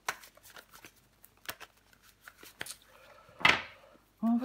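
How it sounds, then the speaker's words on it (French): Tarot cards are turned over and slid across a surface in quick, soft papery flicks and taps, followed by a louder rustling shuffle, with a brief voice at the very end. "Je vais recouvrir des cartes."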